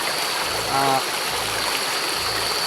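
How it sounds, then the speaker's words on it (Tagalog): A stream or small river flows steadily as a constant broadband wash of water, with a brief voice passing partway through. "yung sapa, yung ilog na ito"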